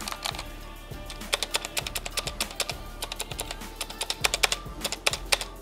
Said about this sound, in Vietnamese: em này là một em bàn phím quang cơ chứ không phải là bàn phím cơ